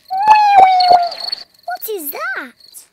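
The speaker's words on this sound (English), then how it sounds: "That is the sound of crickets chirping." Crickets chirping in a Peppa Pig cartoon, a few loud, close chirps with pulsing rhythm, followed by a short warbling sound, with no talk.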